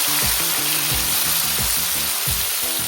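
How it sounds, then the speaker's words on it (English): Coriander paste and curry leaves fry loudly in hot oil, a steady dense sizzle joined by rhythmic scraping and stirring strokes in the pan, close and continuous with no talking. "Add the coriander paste that we prepared. Give it a nice mix."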